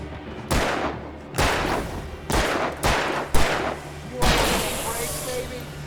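Gunfire from the video game Alan Wake: about six loud, sharp shots spaced irregularly over several seconds, each with a short decaying tail, over low background noise.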